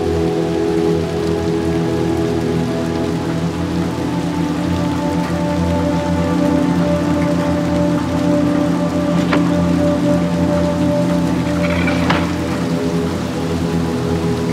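Steady rain falls in Little Nightmares 2, a dense continuous patter filling the background evenly, loud and unbroken, with a faint brief sound near the end.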